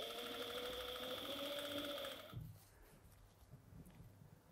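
A pedal-driven sewing machine stitching pieces of natural fur for a scarf, a fast, even mechanical whirr running for about two seconds before stopping with a soft clunk, followed by quiet handling sounds.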